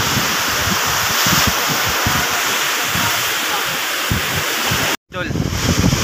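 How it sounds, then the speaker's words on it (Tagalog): Loud, rushing wind roars over rough, churning sea water from a fishing boat, a constant rough wash of noise with gusts buffeting close by, briefly cutting out near the end. "Malakas ang dagat ngayon sa hangin."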